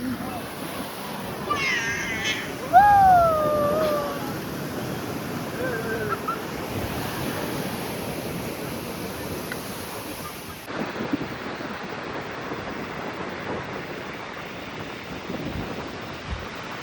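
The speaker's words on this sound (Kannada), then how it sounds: "ಅಲೆ ಬಂತು." Ocean waves break on Udupi beach in a steady wash of surf with wind buffeting the microphone, while a few high, meow-like calls rise briefly near the start.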